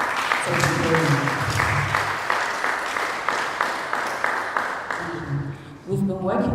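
A crowd at a Catholic schools award event applauds the National Catholic Secretariat's educational service, sustained clapping under a few voices, fading slightly before a speaker begins talking near the end.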